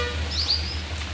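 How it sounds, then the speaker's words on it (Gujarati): Rain falls steadily in a village with a soft, even hiss, and a single short bird chirp rings out clearly in the middle. "કાંઈ પક્ષી બોલે છે અને વરસાદ તો હજી એમને એમ છે."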